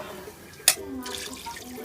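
Water pours into a cooking pot at a home stove, a brief splash followed by a steady running gush that fills the pot, fairly close and moderately loud with background noise.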